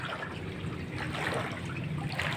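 Water flows steadily through a flooded, abandoned cemetery in Bulacan, seeping in from a nearby fishpond; a continuous close trickling wash with no pauses and no voices.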